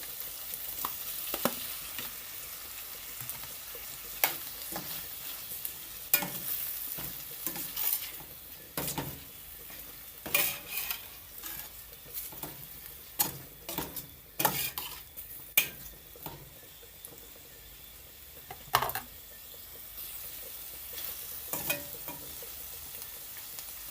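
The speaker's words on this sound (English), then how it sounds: "Now I'm gonna add my ackee." Ackee stirs in a frying pan for a green banana, yam and dumpling dish with saltfish: soft sizzling frying under frequent sharp scrapes and clinks of a utensil against the pan, close and steady, with no talking.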